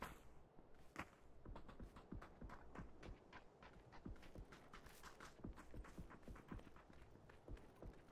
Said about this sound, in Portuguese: Tô ouvindo passos, Ismael.